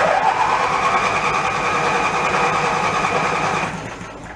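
Snapper lawn mower engine, cold, running on choke, makes a steady loud mechanical drone with a rapid buzzing pulse, then drops in level near the end.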